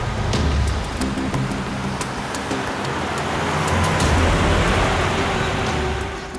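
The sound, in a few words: car engine sound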